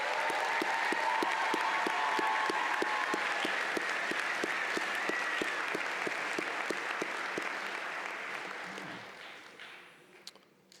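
Graduation ceremony audience gives a sustained round of applause for the graduates, dense clapping with a faint rhythmic thump underneath, tapering away toward the end.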